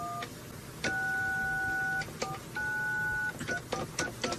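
Telephone keypad tones dialing out for a prank call to a towing company, a quick series of steady beeps in uneven bursts, some long and some clipped, close and clear with no talking.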